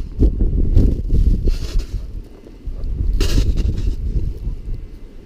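Wind blowing hard through a snow blizzard with whiteout conditions, a steady low roaring rush buffeting the microphone in loud gusts, dipping briefly before surging again.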